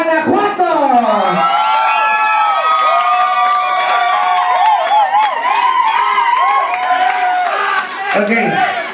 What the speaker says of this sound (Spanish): ¡Aplauso para Guanajuato!